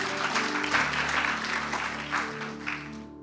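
A church congregation applauds during a Sunday worship service, with broad continuous clapping and a tonal hum of instruments or voices underneath that sustains throughout before cutting off at the end.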